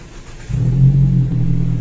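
A car engine running on cooking oil in place of motor oil catches and settles into a loud, close, steady low idle rumble after a brief quieter start.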